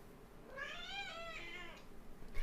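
A cat gives one drawn-out meow that rises and falls, heard close and alone over quiet room noise.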